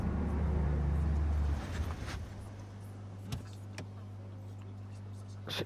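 A car pulls up in Batman: The Telltale Series, its low steady engine hum sitting under a brief whirring motor, with a couple of sharp clicks and faint speech-like murmurs.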